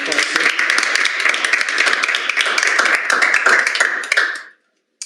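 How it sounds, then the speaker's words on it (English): Audience applause after a physics talk on the LUX-ZEPLIN dark matter experiment, a dense run of close clapping for about four seconds that stops abruptly. "Let's give David a quick round of applause here."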